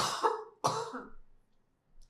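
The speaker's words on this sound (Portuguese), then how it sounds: "Vou ter que tossir, peraí." Two sharp, close coughs in quick succession from a woman during a home conversation, each burst short and throaty, then quiet with a faint trailing sound.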